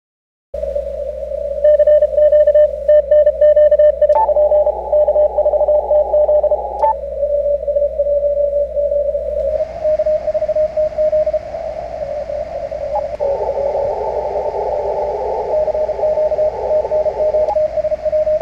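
A continuous-wave Morse signal received on Icom IC-7610 and Yaesu FTdx-101D amateur radio transceivers, a loud steady tone over hissing band noise that shifts partway through, with no voices.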